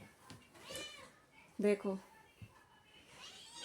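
A wild cat kept in a home gives a couple of short, close meows in quick succession, with a child and an adult talking nearby before and after.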